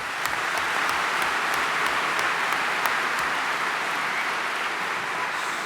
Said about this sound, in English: And if it is, you simply applaud.